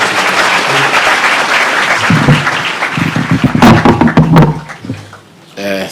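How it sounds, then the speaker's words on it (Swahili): Audience clapping at a school gathering at Kapsabet High School, a dense, steady wash of applause from a large crowd, with a few louder claps and thuds near the end and a brief voice afterward. "Tupigie makofi."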